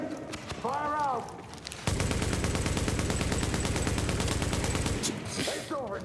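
Sustained gunfire in a video game shootout, rapid automatic bursts rattling continuously and loudly for several seconds after a brief lead-in with a voice, then cutting off abruptly.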